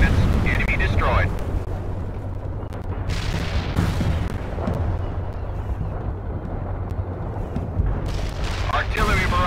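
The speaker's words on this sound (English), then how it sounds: "Artillery barrage hit for full effect." Heavy artillery barrage pounding the battlefield in the real-time strategy game World in Conflict, dense rumbling blasts rolling almost continuously at close range, with radio-style voices speaking over the explosions.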